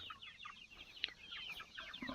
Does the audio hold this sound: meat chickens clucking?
yes